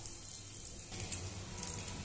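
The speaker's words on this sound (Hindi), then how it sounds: "चलिए हम सेम प्रोसेस से दूसरा बैच भी फ्राई कर लेते हैं।" Potato lollipops, the second batch, fry in hot oil with a low, steady sizzle and faint crackles throughout, heard alone without talk.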